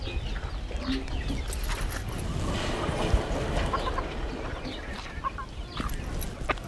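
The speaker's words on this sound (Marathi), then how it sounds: "हे पिवळ्या पायाची आपली देशी कोंबडी आहे." A yellow-legged native desi hen clucks in scattered soft calls amid a busy farmyard background, moderately near, with no speech.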